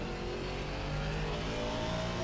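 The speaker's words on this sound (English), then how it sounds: "You can hear all that dirt scrubbing off underneath." Aston Martin V8 race car in Assetto Corsa Competizione with cold tyres scrubbing dirt off, a steady close engine drone with a rough rumbling texture underneath, no break throughout.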